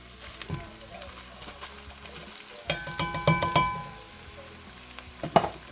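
Onion and chili beans cooking in a pan, a soft sizzle under stirring, with a run of clanking spoon-on-pan strikes midway and another knock near the end.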